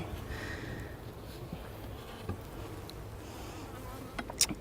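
Honeybees buzz around an open beehive in a garden, a steady close drone of many insects with a few louder passes near the end, no talk.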